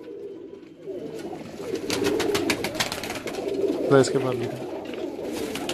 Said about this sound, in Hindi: ये है जी आपका पसंदीदा कबूतर। मादा है।